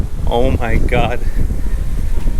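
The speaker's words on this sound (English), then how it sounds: "Do you hear how windy it is?" Strong wind buffets the microphone outdoors beside an e-bike on a fishing trip, a constant low roar and rustle running throughout while a person exclaims briefly over it.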